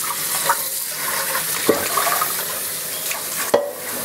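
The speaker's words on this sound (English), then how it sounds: "you're going to refill this up again with water, fresh water" A steady rush of running tap water fills a pot, constant and close, with a few small clinks and knocks against it.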